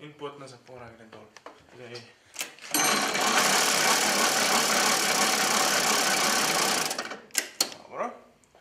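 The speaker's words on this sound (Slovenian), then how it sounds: "Tir 5 je tako nastavljen in potna zapora gre dol." Railway level crossing barrier lowering on track 5: a loud, steady buzzing-ringing mechanical noise runs for about four seconds, with people talking before and after it.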